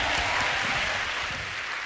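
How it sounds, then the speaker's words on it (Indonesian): A church congregation claps together, a loud steady wash of many hands throughout the short stretch, with no voices. "Tepuk tangan bagi Tuhan yang luar biasa."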